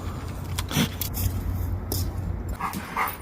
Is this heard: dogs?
yes